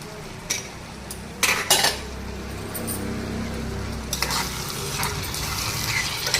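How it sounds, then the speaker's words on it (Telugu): Washed minced mutton keema is dropped into a hot oiled pan and stirred, with metal clanks of a spoon against the pan over a steady sizzle, close and loud, with no talk. "కడిగి పెట్టుకున్న కీమా దీనిలో వేసేద్దాం"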